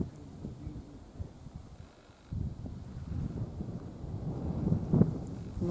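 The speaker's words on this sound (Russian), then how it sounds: "Но ветер подул." Wind gusts buffet the microphone in an autumn forest, a faint low rumble that dips briefly and then swells into louder, uneven blustering.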